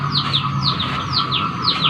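An oriental magpie-robin (murai) singing, with a quick series of sharp, repeated descending chirps over a steady background hum.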